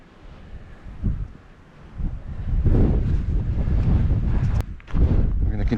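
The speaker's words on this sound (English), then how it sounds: "We're going to continue here in the wind." Gusty wind roars and buffets the microphone on a desert rim hike near blowing sand dunes, swelling in loud rushing waves with brief lulls, no voices.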